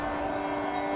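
Ambience inside a Washington, D.C. subway station with a train present, a steady loud rumble and hum with a sustained tonal drone throughout, no voices.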